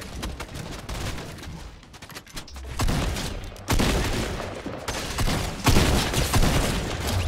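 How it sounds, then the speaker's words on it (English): Rapid volleys of gunfire in a Fortnite squad match, from another team shooting at the squad out of a distance, with dense bursts and sharp cracks rising louder in waves across the stretch. "I think there's another team shooting at us from a distance"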